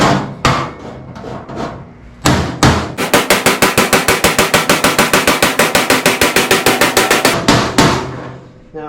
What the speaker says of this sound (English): I'm going to take my heel dolly, hold it on the outside, and then we're just going to hammer the beams